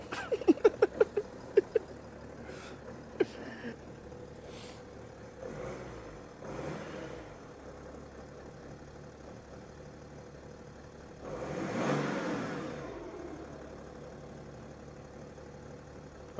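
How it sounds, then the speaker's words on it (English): A BMW E61 5 Series cranks with a few sharp starter clicks and turns over, then a couple of soft engine rises and a broader rev swell later on, all fairly faint and recorded from inside the car. "So let's try and start it."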